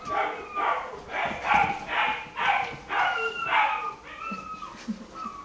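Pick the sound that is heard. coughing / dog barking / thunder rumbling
dog barking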